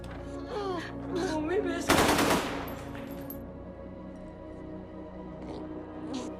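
Gunfire from a film depicting the Mumbai terrorist attack, as terrorists shoot at people hiding in a toilet: one loud, dense burst lasting about a second, then a fading tail under music and a quieter background.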